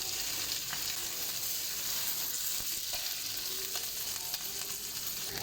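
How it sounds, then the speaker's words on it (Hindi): Chicken leg pieces frying on a tawa give off a steady, dense sizzle and crackle that continues unbroken, close and even, with no voices. "दो से 3 मिनट एक साइड को हम फ्राई करेंगे।"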